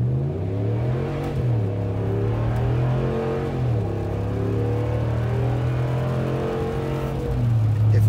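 A Dodge with an aftermarket exhaust accelerates hard from a crawl, its engine note climbing steadily through gear changes with a deep, loud roar heard from inside the car.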